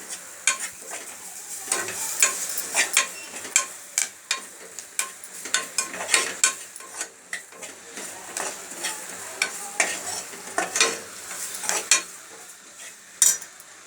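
Mustard seeds, onion pieces and curry leaves frying in hot oil, with a busy sizzle and a rapid, irregular run of spoon scrapes and clanks against the pan, loud and close throughout with no voices.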